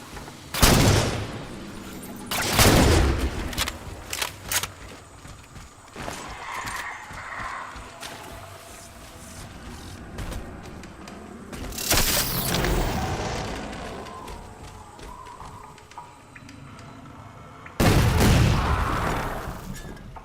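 DMR gunfire against crawlers in Halo 4 comes as loud, sharp single shots spaced several seconds apart, with a thunderous burst at the start and more near the end, over clattering game effects and low ambience.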